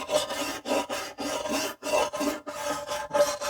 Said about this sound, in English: I'm going to scrape this again.